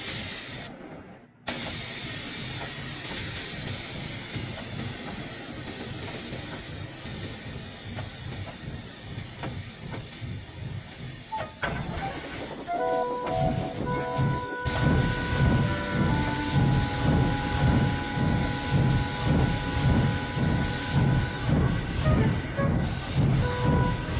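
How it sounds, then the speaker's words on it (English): A steam locomotive hisses and chuffs in a steady rhythm, growing louder and heavier partway through as it approaches, with whistle-like tones above the rumble. "Sounds like a steam engine."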